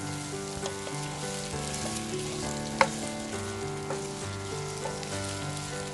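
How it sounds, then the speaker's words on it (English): Potato pieces sizzle in a pan for Korean black bean noodles, a continuous close frying hiss with a few light stirring scrapes and one sharp clink partway through. "Add the potatoes and cook for 2 minutes."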